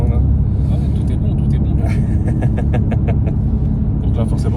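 A stage 2 tuned BMW M2 Competition of about 600 hp idles while its engine warms up, a steady, close, deep rumble with someone talking over it.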